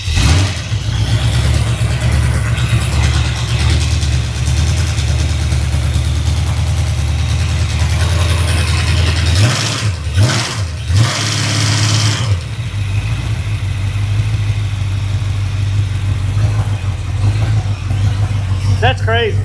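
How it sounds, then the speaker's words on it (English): A car motor cranks and settles into a steady, loud idle, with a brief rev around the middle and voices talking over it throughout. "you've never had a motor crank that easy."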